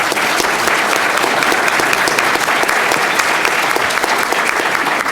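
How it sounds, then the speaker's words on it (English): An audience at a panel on the future of print media gives Mr. Kirk a dense, continuous round of applause, loud and close, with no talking. "Round of applause for Mr. Kirk."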